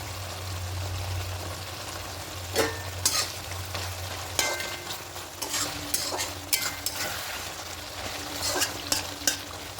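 Pabda fish simmer in mustard sauce in a pan, a soft continuous sizzle with intermittent clinks and scrapes of a utensil stirring against the pan, close and moderately quiet.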